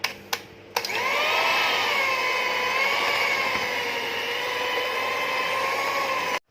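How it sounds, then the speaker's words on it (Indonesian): A hand mixer whirs at high speed while kneading donut dough, a steady loud motor whine with shifting tones after a couple of brief clicks at the start, then cutting off at the end. "ini kita lanjut mixer lagi pakai kecepatan tinggi ya."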